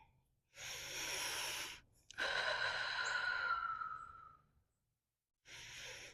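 Slow, deep breaths taken while holding a yoga plow pose: a long airy exhale, a pause, then a longer drawn-out breath and another starting at the end, close and soft with no talking.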